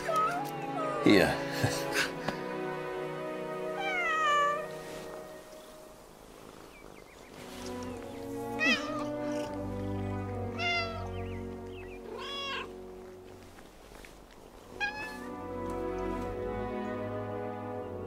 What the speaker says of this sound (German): Eine Katze.